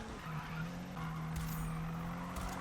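A car drifts through a race in the video game Need for Speed, its engine droning steadily at high revs while the tires skid and hiss under it throughout, with no talk.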